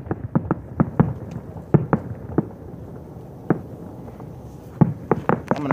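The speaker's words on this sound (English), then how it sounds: "just be very, very quiet and silent, and you'll be able to hear the echo off the canyons" Late-night fireworks in South Palm Desert echoing off the surrounding canyons: scattered distant booms and cracks, some in quick pairs, over a low steady background rumble.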